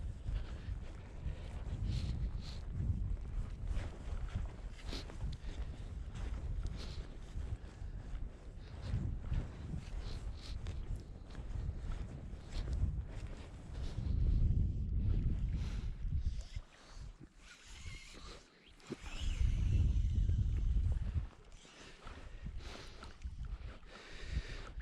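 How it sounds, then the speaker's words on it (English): Bitterly cold wind blowing across open moorland by a loch on the Isle of Lewis, buffeting the microphone in continuous low rumbling gusts that swell louder at a few points, with faint rustling between them. "the wind is bitterly cold today"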